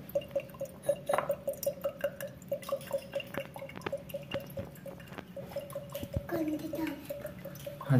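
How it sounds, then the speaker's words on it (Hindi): Coconut water trickles and drips steadily out of a hole drilled in a coconut, with a quick, regular run of close, small liquid plinks and gurgles that is moderately quiet throughout. "ये स्लोली स्लोली अब इसका पानी सारा निकलेगा।"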